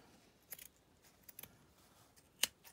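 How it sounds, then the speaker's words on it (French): Scissors snipping off excess lace, a few quiet, close, crisp cuts spaced apart, the last one sharper and louder. "je viens couper donc le surplus de dentelle qui est là"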